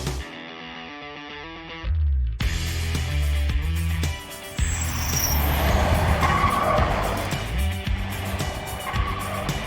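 A Jaguar I-PACE eTROPHY all-electric race car runs on Rockingham Circuit, its rising electric motor whine and tire noise sweeping past loudly after a short musical intro, with squealing tires and tonal whirs.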